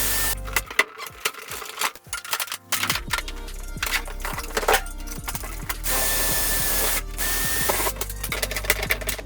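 A hand rivet gun sets aluminum rivets into a jon boat's front deck frame, giving repeated sharp metallic clicks and snaps from the pumping handle, irregular and close, with brief pauses between bursts.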